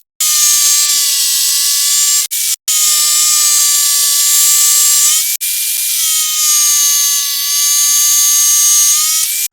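A steel rod is cut into 3.5-inch pieces for a homemade garden hand cultivator, giving a loud, steady, high-pitched whine in three long runs separated by brief breaks.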